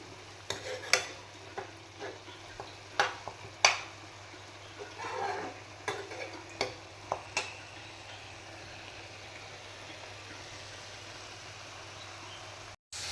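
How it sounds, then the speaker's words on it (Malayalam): Masala paste for chicken roast sautéing in a pan, a quiet sizzle broken by a series of sharp scraping and tapping strokes from stirring, which fall silent near the end. "ഇച്ചിരി കൂടി സമയം ഒന്ന് വഴറ്റട്ടെ"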